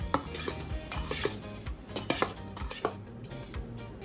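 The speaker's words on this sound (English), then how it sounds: "Then you just want to mix all these lovely ingredients together" A utensil clinks and scrapes against a bowl in repeated quick strokes while honey garlic shrimp sauce ingredients, including minced garlic and ginger, are mixed together, close and fairly loud.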